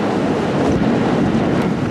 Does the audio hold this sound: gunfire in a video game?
no